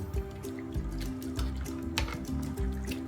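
Spinach being blanched briefly in a pot of water, giving soft bubbling, dripping and sloshing liquid sounds that are close and continuous, with no voices.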